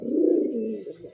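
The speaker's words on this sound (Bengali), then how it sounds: "অরিজিনালি রাজশাহী ব্লু বারের মধ্যে গিরিবাজ একটা কবুতর," Rajshahi blue bar Giribaz pigeon cooing close by, one continuous low, rolling coo with a slight dip in the middle, heard alone with no talk.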